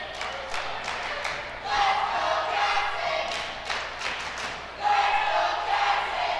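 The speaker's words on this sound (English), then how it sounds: "Got the crowd cheering for him" A gym crowd at a high school wrestling match between St. Johns and Morenci yells and cheers in rising bursts, with shouts and whoops swelling and fading over a steady room din.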